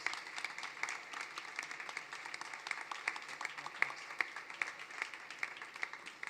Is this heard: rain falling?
no